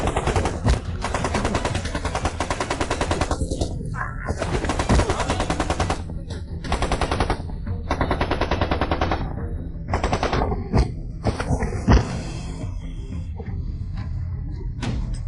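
A Gatling gun firing indiscriminately in long, rapid, rattling bursts, loud and close, with a few brief pauses and sharp heavy impacts scattered through the barrage.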